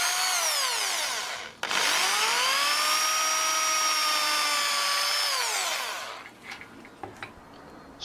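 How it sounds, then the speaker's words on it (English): A power drill boring down through a disc into short broomstick pieces for a garden line marker: one loud, sustained motor whine that spins up, holds steady for several seconds, then winds down, followed by a few faint knocks. "then drill down into them ready for screws"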